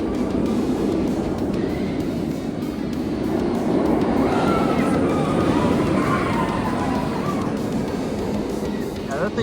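The Batman the Ride roller coaster runs fast on a warm day, with a continuous roaring rumble of wheels on track that swells toward the middle and carries a faint metallic whine, as people talk nearby.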